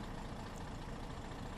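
A MAN city bus engine rumbles steadily outside the vehicle in OMSI 2, a low, even drone of diesel idling with broadband noise and no talk, faint and continuous throughout.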